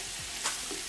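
Spices sizzling in hot oil for a tadka (black pepper, cumin powder, garam masala, degi mirch), a steady soft frying hiss with a brief swell of louder sizzle partway through, close and fairly quiet, no talking.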